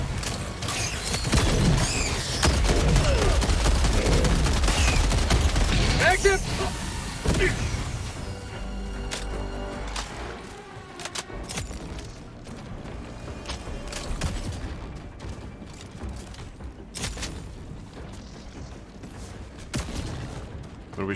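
In Helldivers 2, loud sustained weapon fire and clattering mechanical combat noise fill the first several seconds, then thin out into scattered shots and rattles at a lower level.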